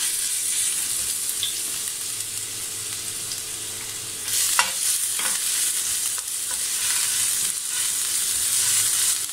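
Ginger garlic paste frying in a little desi ghee over low heat, giving a steady close sizzle throughout with occasional soft scrapes and clinks of stirring, and no talking.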